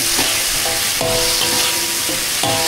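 Shrimp and garlic frying in a hot pan, a steady close sizzle broken by several stirring scrapes of a utensil against the pan.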